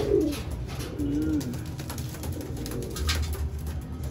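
Pigeons cooing in a crowded loft of young birds and breeders, a few soft low coos near the start and middle over a faint hissy background.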